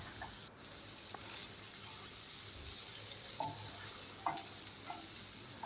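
Chopped ridge gourd frying in a pan for chutney, a soft, quiet sizzle with a few light stirring scrapes and clicks against the pan.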